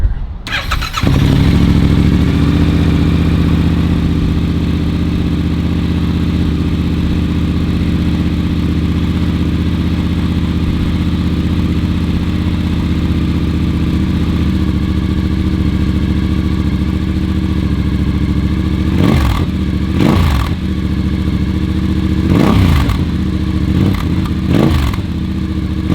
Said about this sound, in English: So now let's hear the sound of the bike over here.